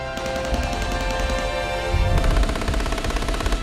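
Sustained machine gun fire in a military setting, dense rapid bursts of gunshots overlapping continuously with heavy low booms growing stronger partway through, loud and close.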